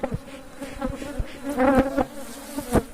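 Honeybees stirred up around an opened hive hum loudly and continuously, several individual insects zipping close by in pulses above the steady swarm drone.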